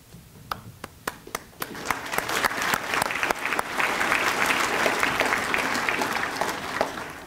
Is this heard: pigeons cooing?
no